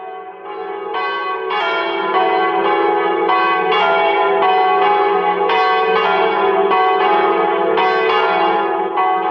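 Church bells from the three-bell tower of the Immaculate Conception Church at Cooks Creek, Manitoba peal loudly and continuously, overlapping strikes ringing in a steady, resonant wash with no voices.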